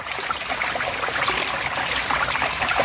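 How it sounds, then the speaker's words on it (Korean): A mountain stream on Solaesan rushes and trickles steadily nearby, a continuous bright splashing flow with no voices. "아유 물소리 좀 들어보세요"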